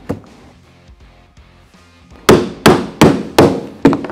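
Five loud, sharp hammer blows at a steady pace, hammering a metal ring onto a wooden pallet clock, following a few seconds of quiet background music.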